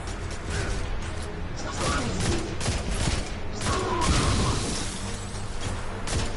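Gunfire in the Destiny 2 shooter crackles in repeated close bursts and pops with mechanical clatter and occasional booms, running steadily over several seconds.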